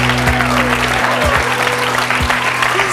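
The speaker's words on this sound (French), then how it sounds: "que je vous demande d'applaudir très très chaleureusement" A studio audience at a French makeover talk show gives guest Caroline warm, steady applause for three seconds, with a low musical hum running underneath.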